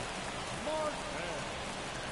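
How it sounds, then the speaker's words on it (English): Rain falls steadily as a dense, even hiss across the whole short stretch, with no talk. "It is raining."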